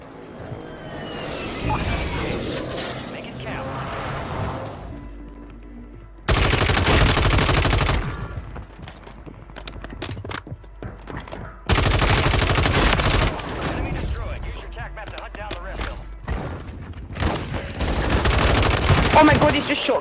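Heavy gunfire in Call of Duty Warzone on Rebirth Island: loud bursts of automatic fire and booming shotgun-like blasts in several dense blocks, with players talking in between.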